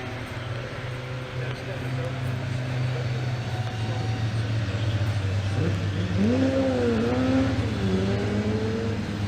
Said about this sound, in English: let you appreciate our Group 1 touring cars as they get into position on the grid